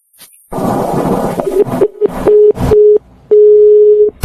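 A telephone call's ringing tone sounds in repeated steady electronic beeps of varying length, loud and close, after a burst of noisy rustling at the start.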